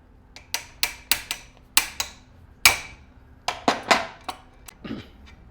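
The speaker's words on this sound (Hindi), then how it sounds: "अब हमें ये जो सबसे बड़ा सा बोल्ट है वो खोलना है" A large bolt on a bag closer machine is worked loose with a tool, producing a series of sharp metallic clicks and taps in an irregular rhythm, close and distinct against quiet surroundings.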